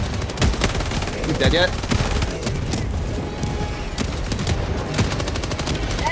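Rapid gunfire in a shooter game fighting bugs, dense bursts of shots and booms rattling close and loud, with a voice speaking briefly over the firing.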